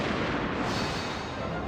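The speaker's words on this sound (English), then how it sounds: "At daybreak, the silence was broken by the sound of muskets." Musket gunfire from the Battle of Sekigahara in the Gundam Generals video game, a dense rumbling crackle of distant volleys heard as one steady barrage.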